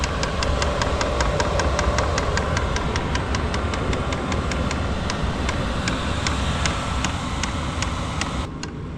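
An HCalory diesel heater runs outdoors at an icy riverside campsite, giving a steady engine-like hum with a fast, regular ticking pulse that continues throughout.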